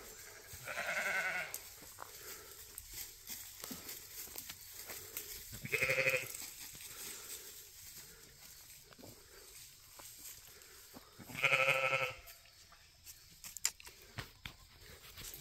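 Goats grazing in a pasture alongside sheep give three loud, drawn-out bleats spaced several seconds apart, with quiet outdoor ambience and faint clicks between the calls.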